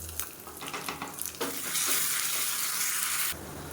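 Continuous sizzle of a South Indian tempering with cumin, dried chilies, curry leaves and chopped shallots frying in oil, crackling near and loud, swelling to a dense hiss midway before easing slightly.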